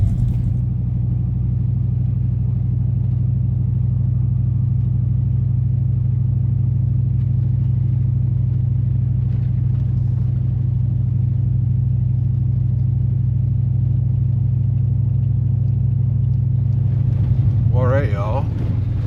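A pickup truck drives along a forest road in a national forest, its engine and road noise making a steady, loud low rumble throughout, with a brief higher whine near the end.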